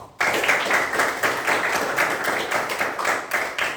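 Schoolchildren in a classroom clap together on a teacher's cue, a sudden, loud burst of many small hands that stays dense and steady throughout, close by and without talk.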